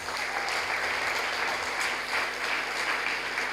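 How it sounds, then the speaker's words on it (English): An audience at a registry lecture gives a speaker a sustained round of applause, a steady, dense wash of many hands clapping for several seconds with no talk over it. "he deserves another round of applause"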